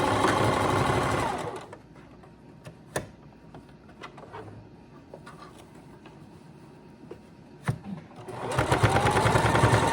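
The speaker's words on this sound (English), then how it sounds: "you want to do a straight stitch right here and not a zigzag" A sewing machine runs a straight stitch on a shorts jumpsuit, loud steady whirring at start and end, with a quieter gap of light taps and handling between.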